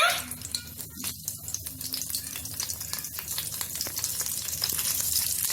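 Mustard seeds and curry leaves crackle and sizzle in hot oil for Verkadalai chutney tempering, a steady near hiss with scattered sharp pops, growing slightly denser toward the end, no voices.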